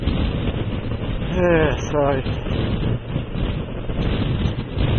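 Steady southeasterly wind rumbles and buffets the microphone throughout, with a brief spoken remark near the start.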